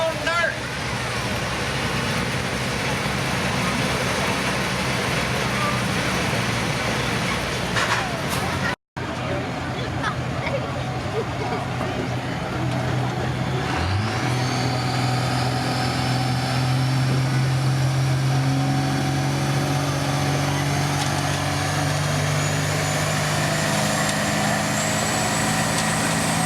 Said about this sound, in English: Smoking the tires on dirt.